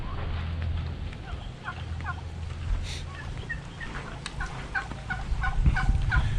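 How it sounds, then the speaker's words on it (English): Turkeys on a farm in the Philippines gobble in short, repeated bursts, some near and some farther off, over a low steady background hum. "The turkeys are looking rather healthy."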